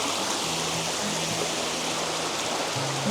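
Rushing water of a waterfall and spillway at Rock Island State Park, Tennessee, a steady close hiss and roar filling the whole short stretch without talk.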